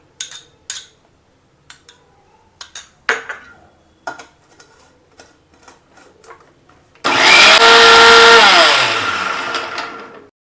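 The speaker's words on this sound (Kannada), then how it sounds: "ಇದಕ್ಕೆ ಮೊಸರು ಹಾಕೊಂಡು ರುಬ್ಕೋತೀನಿ" A mixer grinder blends flax seeds with curd in a loud, continuous whirring burst that runs about three seconds and then fades. Scattered clinks and knocks of the jar and utensils come before it.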